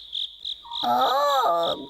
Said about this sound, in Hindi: ये तो सोने की बाल्टी की आवाज है